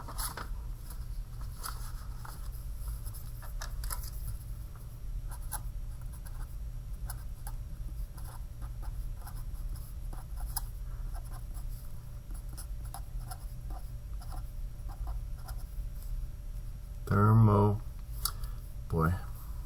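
Pen scratches on paper while thermochemistry problems are worked out, faint and steady over a constant low hum, with a short louder thump of handling near the end.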